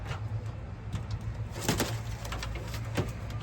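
A racing pigeon newly returned from a tough young-bird race coos softly amid a steady low hum and scattered sharp clicks and rustles, nearby and unaccompanied by talk.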